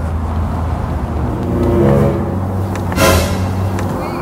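A car engine idles with a steady low hum, then revs up twice in short swells, the second push briefer and brighter, heard nearby without talk.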